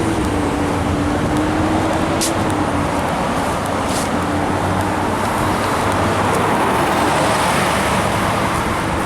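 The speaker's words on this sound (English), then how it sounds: "All you see around here is cars and buses." Cars and buses in steady street traffic, a continuous loud road roar with passing vehicles close by and a faint tonal hum running underneath, no talk.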